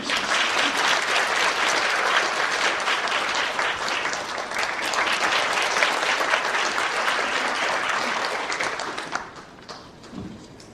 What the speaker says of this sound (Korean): 자, 우리 뜨거운 박수 한번 주시겠습니다.